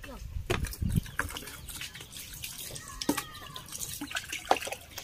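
Water running from a tap outdoors while dishes are washed, a soft continuous splash with clattering and bumps, mixed with intermittent nearby talking.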